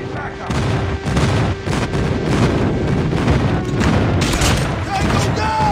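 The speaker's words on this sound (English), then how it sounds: "Friendly airstrike incoming." Airstrike explosions and gunfire in the game Call of Duty Mobile during team deathmatch, a continuous loud barrage of booms and rattling shots with game voice callouts underneath.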